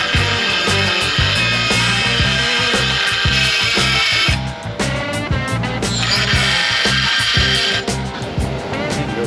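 Power tool drilling through steel with cutting fluid in an auto repair shop, a loud continuous grinding whine with rhythmic chatter and pulsing bursts, close and steady throughout with brief dips in pitch.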